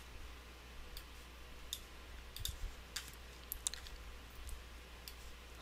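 Sparse, quiet computer mouse clicks while navigating menus in a website editor, a few irregular sharp ticks spread over several seconds against a low background hum, with no talking.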